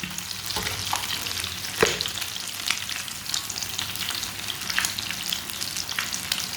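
A crispy club sandwich fries in a pan, sizzling steadily up close with a few light scraping and stirring clicks, no voices.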